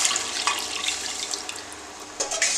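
Tamarind water poured into a simmering fish head curry, a continuous close splashing, trickling pour lasting a few seconds with small surges of liquid.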